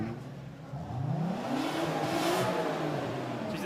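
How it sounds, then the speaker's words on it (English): A drift car's engine revs through a Super Street exhaust at a South Australian state series drifting round, a loud sustained rising and falling note, fairly close and with no talk over it. "Sounds like it's just a normal car."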